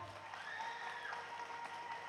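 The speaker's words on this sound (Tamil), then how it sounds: "எல்லா பெண்களும் எனக்காக ஒரு முறை தட்டுங்க பார்ப்போம்" Women in the crowd at a DMK political stage rally clap their hands together in a brief, even burst of applause, heard faint and distant.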